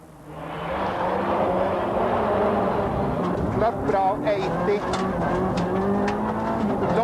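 A Mazda rally race car built for competition drives past with a loud, sustained engine roar that rises in pitch through gear changes, with someone narrating over it.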